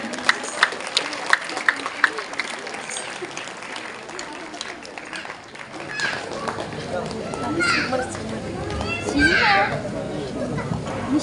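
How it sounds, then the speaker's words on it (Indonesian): Applause at a pesantren graduation ceremony for a girls' nasyid rebana group, scattered claps building into a lively crowd ovation, with children's voices and chatter mixed in. "mari beri tepuk tangan yang meriah untuk grup Nasyid Rebana Putri"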